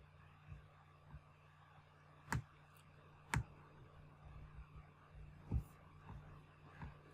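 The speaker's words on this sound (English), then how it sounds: "Now I click upload." Several crisp computer mouse clicks sound in a quiet room, spaced irregularly, with one louder pair in the middle and a low hum underneath.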